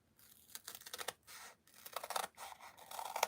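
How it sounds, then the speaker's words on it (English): Paper snips cutting through card-making paper, a quick run of sharp, close snipping clicks with brief pauses between strokes. "So I'm going to get out my paper snips"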